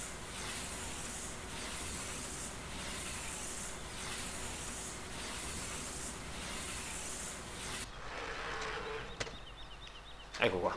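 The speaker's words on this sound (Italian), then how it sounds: "il sound appunto degli avvolgitori, veramente sono ben fatti" A KUHN bale wrapper in Farming Simulator 17 works with the tractor shut off, giving a steady hissing, whirring mechanical drone with rhythmic pulses that stops near the end, followed by faint clicks and clunks.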